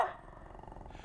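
A Shiba, a Japanese dog breed, at a Danish kennel gives a single short bark up close, followed by a low rumbling growl.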